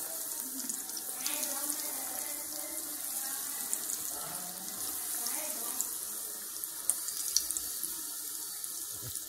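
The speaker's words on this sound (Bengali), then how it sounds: "গ্যাসটা স্লো মোশনে দিয়ে আমি হালকাভাবে ভেজে নিচ্ছি।" Fish sizzles in hot oil in a kadai pan over a low gas flame, a steady, close hiss that runs unbroken from start to end.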